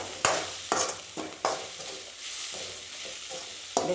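A spoon stirs and scrapes through sizzling masala for chickpea curry in a hot pan, several sharp scraping strokes at irregular intervals over a steady frying hiss, close and fairly loud.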